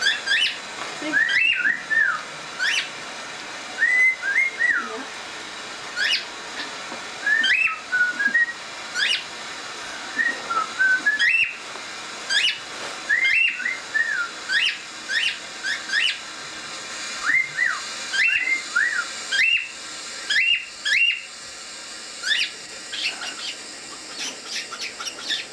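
A pet bird whistles in repeated short, rising and falling phrases with squawky chirps, fairly close and clear against a quiet indoor room, with brief pauses between bursts.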